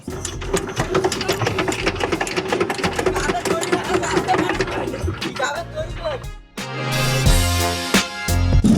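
Motor boat engine on the river beneath the Paksey bridge near Ishwardi, a loud, close, rapid mechanical putter that drops briefly before surging back with a heavier drone.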